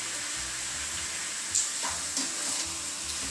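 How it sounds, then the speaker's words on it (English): Food sizzles and fries steadily in a hot pan, a constant close crackle with a few brief louder pops and clinks from stirring, no voices. "It's now frying. It has to fry till it's golden brown."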